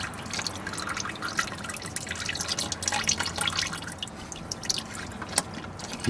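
Used motor oil pouring from an opened drain plug into a drain pan beside the oil filter housing, a steady close-up splashing and trickling stream with no voices.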